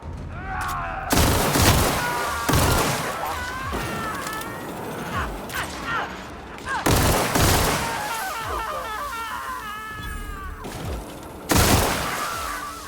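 Loud video game gunfire from a weapon in The Outer Worlds, repeated booming shots and crashing impacts amid layered game sound effects, with a voice speaking briefly among the blasts.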